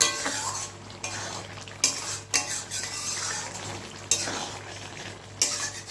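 A spoon stirs cinnamon and cardamom powder into a curry of fish head with potato and cauliflower in a pan, scraping and clinking against the metal in irregular strokes over a soft, steady sizzle.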